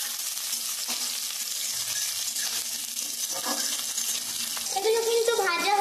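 Tomato, onion and green chili fry for chilli fish with a steady, close sizzle and hiss throughout, broken by occasional stirring scrapes; a voice-like tone rises faintly near the end.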